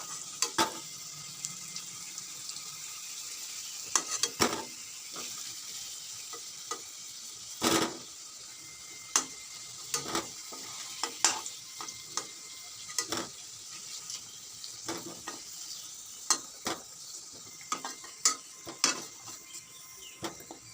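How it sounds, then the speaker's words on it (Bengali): Potatoes frying in oil in a pan, a steady soft sizzle broken by sharp clinks and scrapes of a spatula stirring, close by with no talking. "আলুগুলো ভাজা হয়ে গেছে দেখো লাল লাল করে ভেজে নিয়েছি"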